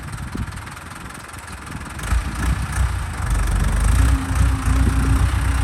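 A genuine German-brand car engine idles with a low, steady rumble, then revs up into a louder, deeper roar that holds strong near the end, with no talking over it.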